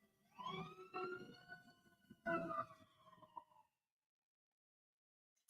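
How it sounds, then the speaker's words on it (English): A distant siren wails, rising and falling in pitch for a few seconds before fading out, leaving near silence; no one speaks. "we always have the mandatory sirens, so let's honor them. You hear them?"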